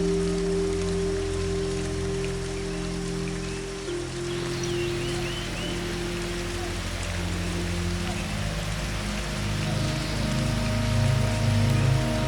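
Steady rain pattering on foliage in a dense forest on the Mardi Himal trek in Nepal, a continuous close hiss with a low rumble underneath and faint voices now and then.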